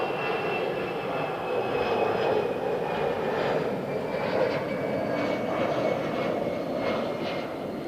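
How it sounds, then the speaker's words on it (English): An Air Canada Boeing 787 Dreamliner in Bandit livery at London Heathrow Airport gives off a steady, broad jet roar with a faint high whine, sustained and fairly distant throughout with no pauses. "Air Canada Dreamliner"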